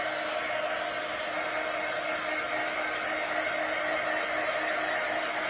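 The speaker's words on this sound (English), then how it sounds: "I'm gonna blow dry it real quick, just dry it." A hair dryer blows steadily and loudly throughout, drying a chalk-painted beach decor craft piece, with a constant broadband whoosh and no talking.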